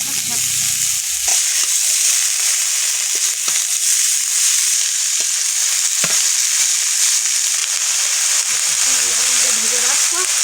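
Carrots and radish frying in hot oil with garlic and green chilies give a loud, steady hissing sizzle throughout. Occasional stirring knocks and scrapes sound over it, and a voice speaks briefly.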